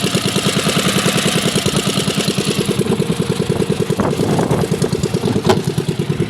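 A boat engine idles at sea with a steady, rapid mechanical chugging at close range. The rhythm holds loud and even, with slight unevenness and a few knocks near the end.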